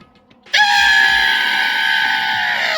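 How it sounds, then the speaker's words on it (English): A loud, sustained high scream erupts suddenly and holds steady for a couple of seconds, a piercing cry from the video game Danganronpa 2: Goodbye Despair. "At that moment, I let out a scream."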